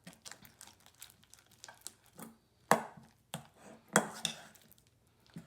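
Homemade slime stirred with a spoon: irregular sticky squelches, clicks and crinkly pops, some sharp and loud, close to the listener with short pauses between strokes.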